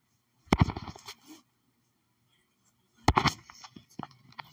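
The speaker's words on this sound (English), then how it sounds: "I heard something like a piston firing." Minecraft redstone pistons firing inside a B-17 flying fortress build: two short clusters of sharp, clacking mechanical snaps separated by a pause of a couple of seconds, close and crisp.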